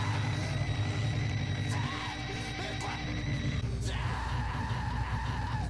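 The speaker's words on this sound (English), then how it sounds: "Just some really scratchy industrial noises, and then we got some screaming in the background." An album intro: scratchy, grinding industrial noise with distant screaming in the background, a sharp swell near the end, moderately quiet overall.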